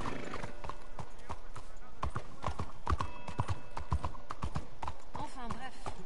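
Horse hooves clip-clop in rapid rhythmic beats in Red Dead Redemption 2, with a whinny and someone talking over the steady galloping.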